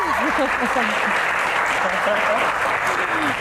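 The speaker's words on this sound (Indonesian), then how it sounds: "Tepuk tangan lagi mengiringi Kak Rosa" Audience applause welcoming a guest named Kak Rosa at a Q&A event, steady and loud throughout with a voice talking over it.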